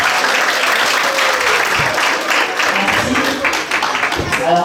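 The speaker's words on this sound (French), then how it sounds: "je vais demander à ce qu'on applaudisse pour Pamela" Loud, sustained applause from guests at Maman Pauline's 60th birthday party honouring Pamela, dense clapping close by with a few voices calling out over it.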